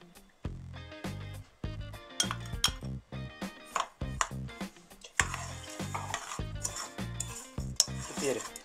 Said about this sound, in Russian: Теперь хорошенько размешиваем для однородности.